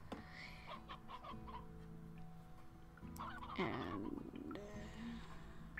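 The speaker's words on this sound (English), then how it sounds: "One rooster and a bunch of hens." Chickens cluck inside a video game, a rooster among a flock of hens, with busy fowl calls swelling in the middle over steady background game noise and a brief spoken word.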